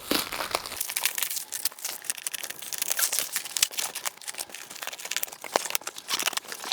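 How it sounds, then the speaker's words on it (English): A cardboard parcel of test equipment cut open with a box-opening tool, giving close, continuous crinkling and scraping with sharp tearing crackles, no speech. "let's cut inside using this next tool, box opening thingy, which I've got here"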